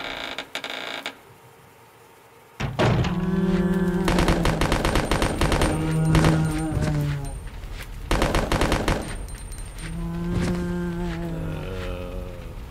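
Rapid bursts of gunfire in the video game Resident Evil: Code Veronica, loud and close, starting after a quiet opening and breaking off in short pauses, with tonal creaking and eerie ambient sounds between the shots.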